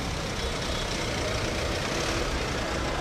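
A funeral hearse in a procession drives by, a steady loud engine rumble and road noise with no distinct voices.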